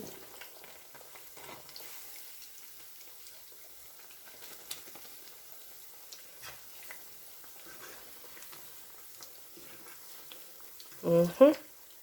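Akara fritters made from bean flour fry gently in oil over low heat, giving a faint, sparse crackle and soft bubbling. A voice speaks briefly near the end.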